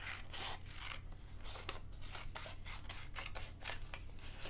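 Scissors cutting through card and paper in repeated rasping snips, close and fairly steady over a low background hum, no talking.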